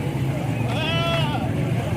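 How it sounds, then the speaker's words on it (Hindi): Desi goats bleat once in a wavering call at a Lahore livestock market, heard close over steady crowd murmur and background chatter. "दोनों ही बकरे हैं ना? सही देसी बकरे हैं"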